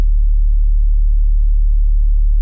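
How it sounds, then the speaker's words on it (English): A clean, deep sub bass tone for dubstep production hums steadily and loudly, with no other sounds over it. "I got this sub bass that sounds kind of like this"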